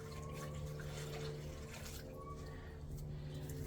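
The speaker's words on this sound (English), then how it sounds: "So if I add more water, I'm going to pour it in there first so it comes out with the dye." Water mixed with dye poured into a container while making a DIY hummingbird birdbath, a steady close trickle with faint dripping over a constant low hum, no talking.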